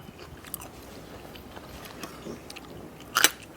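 Crispy garlic is crunched while eating a spicy fresh shrimp salad, giving soft close chewing sounds with a sharp loud bite near the end and no talking.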